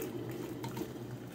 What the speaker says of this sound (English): I'm gonna pour really vigorously because it'll stir up all those leaves.